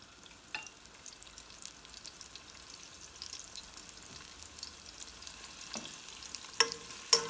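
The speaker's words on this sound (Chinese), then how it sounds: "把洋葱、姜、八角放进去爆香" Onion, ginger and star anise sizzle quietly in olive oil in a soup pot, a soft steady frying hiss broken by a few sharp crackles and spatters near the end.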